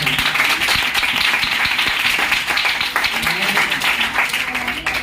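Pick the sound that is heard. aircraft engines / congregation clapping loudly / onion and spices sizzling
congregation clapping loudly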